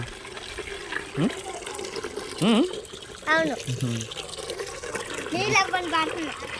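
Water pours steadily into a container under a constant splashing hiss, while people talk intermittently over it.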